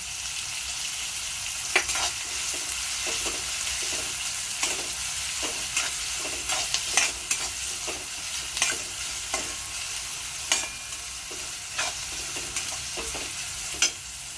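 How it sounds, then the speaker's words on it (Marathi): Onion frying in a pan for zhunka with chickpea flour gives a steady, bright sizzle, close and continuous, punctuated by regular scraping and clacking strokes of a spoon stirring. "कांदा चांगला फ्राय करून घ्यायचा"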